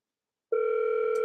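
A telephone ring tone starts abruptly after a short silence and holds as a steady, clear electronic tone.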